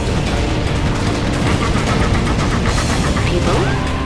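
Rapid gunfire and explosions from a Tank General versus Superweapon General battle in C&C Generals Contra, dense and continuous at a loud level with bursts layered over one another throughout.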